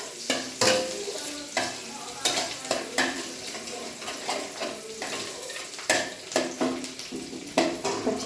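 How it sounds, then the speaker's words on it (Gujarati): Finely minced garlic frying in a pan for a white sauce cheesy pasta, with a steady close sizzle broken by repeated sharp scrapes and clinks of a spoon stirring against the pan. "એમાં સૌ પ્રથમ લઈશું ઝીણું સમારેલું લસણ. એને થોડું બ્રાઉન થવા દઈશું."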